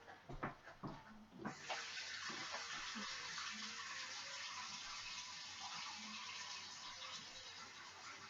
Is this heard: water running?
yes